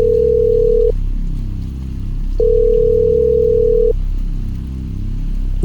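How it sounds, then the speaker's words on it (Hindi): A phone line tone sounds in long steady beeps separated by short silences, loud and close, with no voices. "उसने नीचे रहने वाली शर्मा जी को फोन किया।"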